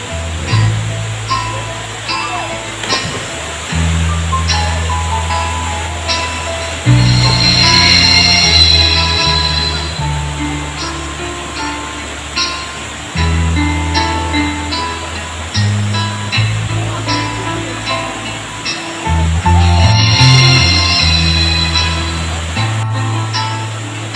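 Rushing water of a natural waterfall roars continuously while people bathing talk and call out nearby, their voices rising and falling over the steady wash.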